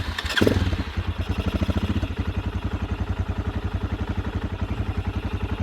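A Honda XLR125R single-cylinder motorcycle is cranked and fires up, then settles into a close, rapid, even idle thump, fitted with a Chinese CDI from a Honda XL600V Transalp.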